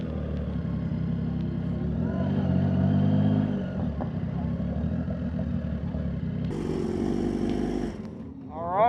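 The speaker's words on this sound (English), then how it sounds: "Holy shit, there's a lot of bikes here." A large crowd of motorcycles gathered for a group ride idles and rumbles together, a continuous mix of engines with occasional revving close by, and people talking over it.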